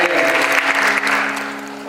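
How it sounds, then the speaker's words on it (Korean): Church congregation applauding the worship team during a Korean Sunday service in Vancouver, with steady, dense clapping filling the hall throughout, accompanied by a sustained organ or keyboard chord underneath. "우리 찬양팀에서 다시 한번 뜨거운 박수로 격려와 하나님께 감사의 박수 드리겠습니다"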